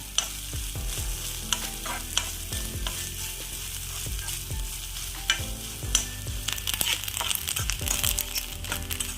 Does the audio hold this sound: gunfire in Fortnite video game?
no